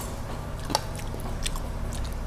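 Someone bites into crispy fried fish with one sharp crunch, followed by softer close chewing sounds over a steady background hum.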